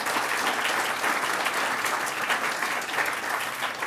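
Audience applause at an annual event after an interview, a dense steady wash of clapping from a seated crowd, continuous and even for a few seconds.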